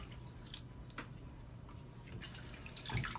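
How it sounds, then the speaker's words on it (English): Water runs from a tap for a post-shave rinse, a faint continuous splash with small drips and squishes, picking up slightly toward the end, without speech. "I'll rinse off."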